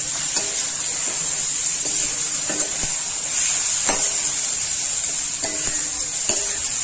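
Asafoetida sautés in a pan for a tangy black-chickpea and yam kara kuzhambu, a bright, continuous hiss of frying broken by occasional spoon scrapes and taps.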